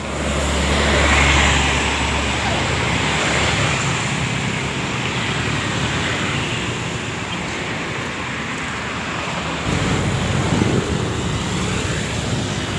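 A new Harapan Indah Mercedes-Benz sleeper bus with white number plates pulls into a bus terminal, a steady low engine rumble and broad road noise filling the scene, the sound swelling slightly near the end as it draws close.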